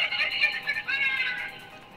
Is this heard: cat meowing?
yes